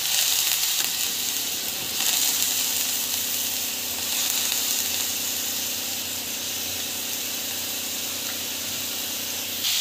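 Raw banana sizzles steadily in a thick tomato puree in a pan, a continuous close hiss of frying with little variation and no speech.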